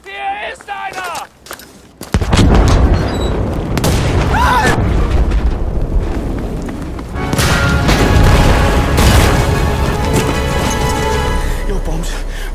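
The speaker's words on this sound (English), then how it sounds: "that's because my bombs went off" Bombs explode in the Battlefield V war game, loud booming blasts that follow a quieter opening and fill the scene with sustained rumbling and crackling debris, with voices speaking at times.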